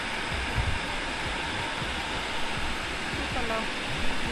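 Heavy water rushes down over rocks at Ganga Maya Park in Darjeeling during heavy rain, a steady, dense roar with no break that fills the whole scene.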